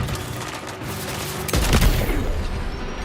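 Enemy gunfire in the Death Stranding 2 video game, a steady rattle of shots that swells into a louder, denser burst partway through, with no talk over it.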